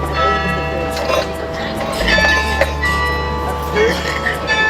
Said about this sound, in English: We're just going to wait for the chimes.